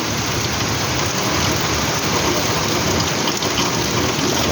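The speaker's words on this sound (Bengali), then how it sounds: "আজকে একটু বেশি ভারী বৃষ্টি হচ্ছে" A heavy, steady downpour roars without a break in Belgharia, with a low rumble of thunder beneath it.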